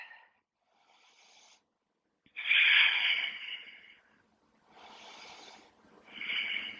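Slow deep breaths during a vinyasa yoga flow, a long hissing exhale and softer inhales rising and falling in a quiet room, close and alone with no talking.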